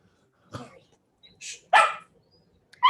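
A dog barks in short, loud bursts, three or four sharp yaps spaced irregularly, fairly close in an indoor room with no talk.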